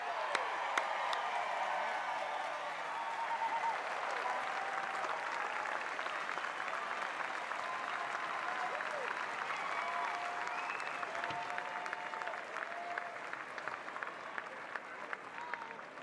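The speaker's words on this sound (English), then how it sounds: "A round of applause, please, once again." Long, continuous crowd applause at a mayoral inauguration in San Francisco, fairly distant and even, with scattered cheers, whoops and faint voices threaded through.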